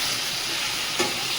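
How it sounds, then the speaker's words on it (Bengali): Goat meat sizzles and fries in a pan as it is stirred for kosha, a constant close hiss with a soft scrape of the spoon, and no voices. "ভালো করে মাংসটা এইভাবে কষিয়ে নেব"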